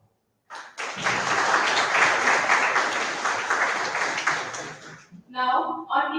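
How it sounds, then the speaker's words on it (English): A crowd claps in sustained, loud applause for several seconds, then it fades and a single voice begins speaking. "we could start this program with a huge round of applause."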